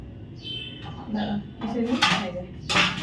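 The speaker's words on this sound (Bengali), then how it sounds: "তরমুজটা কেটে বার করে নিচ্ছি" A knife cuts into a watermelon on a kitchen surface, with a few short scraping and clinking strokes over about three seconds, near and fairly clear, while a voice talks faintly underneath.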